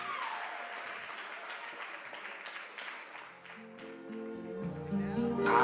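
Wedding guests clap for the groom and his mother at a reception, fairly faint scattered applause that gives way to music starting up as the clip ends.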